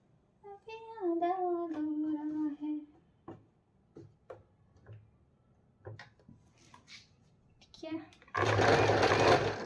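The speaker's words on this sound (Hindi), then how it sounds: "तो अभी मैं इसको सिलती हूँ। तो ये देखिए इसका जो स्टिच वो बैक को जा रही है" Someone talks and a few soft clicks follow before an Usha Janome Allure sewing machine, set to a backward stitch, whirs loudly and steadily for just over a second at the end.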